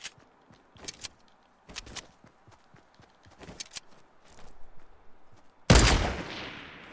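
Scattered gunshots in a shooter game, sparse sharp cracks and quieter thuds, ending in one loud close blast with a ringing tail.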